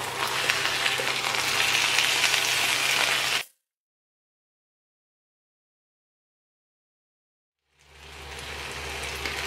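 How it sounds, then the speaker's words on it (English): Steady crackling sizzle of chicken pieces frying in hot oil for a stir fry, cutting out abruptly to silence for several seconds before the sizzling returns. "Once the oil is hot, add your chicken."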